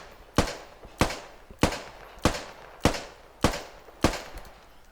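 Controlled rifle fire in the video game Squad: seven evenly spaced sharp shots, one every half second or so, loud and close with short decaying tails.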